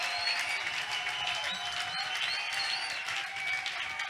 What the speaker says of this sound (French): Acclamez pour Seigneur Jésus-Christ.